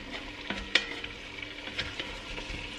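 Food browns in a pan over raised heat, giving a soft steady sizzle with a few sharp clicks and stirring scrapes. No one speaks.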